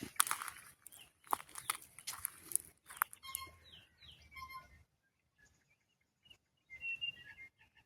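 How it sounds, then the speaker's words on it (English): Early-morning bird calls outdoors near a shoreline with broken shells, scattered chirps and tweets at moderate distance, mixed with rustling and shuffling sounds at first, then sparse calls in near silence. "the bird life is starting to wake up"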